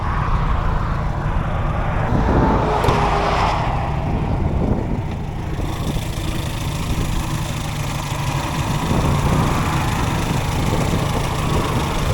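A 1996 Škoda Felicia 1.3 MPI engine idles with a steady, low rumble, continuous, with a brief brighter rise early on, and no talking.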